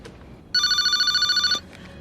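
A telephone bell rings in a single burst of about one second, loud and near, a sustained trilling tone that cuts off abruptly in an otherwise quiet room.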